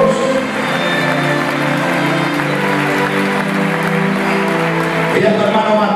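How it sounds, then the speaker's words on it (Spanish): Congregation applauding during a Saturday church sermon, a full, steady roar of clapping and cheering voices that holds at the same loudness throughout, with a brief swell near the end. "den un fuerte aplauso a la mente de Dios"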